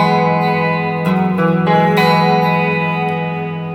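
Electric guitar plays a chord, opening with a sustained chorused chord, then one strum adds a hammer-on that gives a warbling change, loud and close, with no talk.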